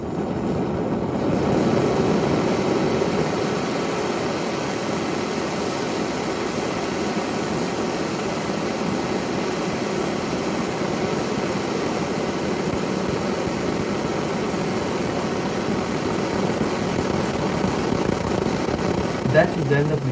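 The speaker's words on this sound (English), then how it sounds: "So I printed the same rocket engine again, but this time without the external cooling system, just to see how many seconds it can resist before melting itself." A 3D-printed liquid-cooled rocket engine runs without its external cooling, producing a loud, steady, unbroken roar that holds for about twenty seconds.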